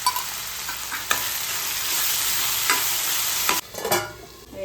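Tomato chutney cooking over a low flame and stirred in a pan, a continuous close sizzle broken by sharp scraping strokes of the spoon against the pan, with a louder clatter near the end.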